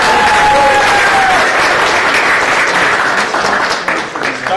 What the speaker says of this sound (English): Please give a round of applause for the Star Trek Irregulars.